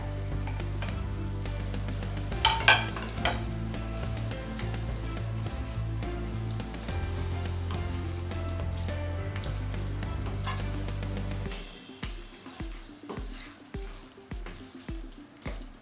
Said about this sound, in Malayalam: ഇനി ഇതിനകത്തോട്ട് നമ്മൾ ഫ്രൈ ചെയ്ത് വെച്ചിരിക്കുന്ന ക്യാപ്സിക്കവും സവോളയും കൂടി ഇട്ട് കൊടുക്കുകയാണ്